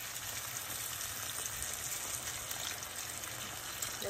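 Chopped tomatoes fry in a pan with an already roasted spice mix, added without turmeric or chili, giving a steady, soft, continuous sizzle and crackle close by, with no talking.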